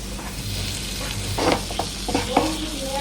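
Fish frying in a pan while being stirred and turned, with a steady close sizzle broken by several scraping stirs and clatters of the utensil.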